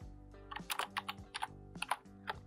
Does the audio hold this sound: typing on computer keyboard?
yes